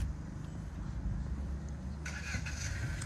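A Jaguar XJS with a 12-cylinder engine runs with a low, steady rumble, and a brighter burst of revving or mechanical clatter joins about two-thirds of the way through. No one speaks.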